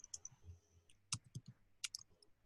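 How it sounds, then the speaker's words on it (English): Soft, faint keyboard typing sounds through a remote meeting call as a few scattered light clicks in irregular bursts, distant and quiet against low background noise. "I hear him typing."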